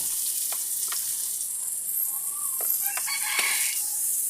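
Garlic and onion frying for tinola, cooked over a wood fire, a steady bright sizzle running throughout with a few light utensil clinks and a rooster crowing faintly in the background.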